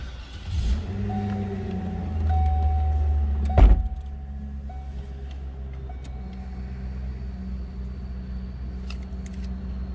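A 2006 Cadillac XLR-V starts up close by: a brief crank, then the engine catches with a short rise before settling into a steady, low, rumbling idle.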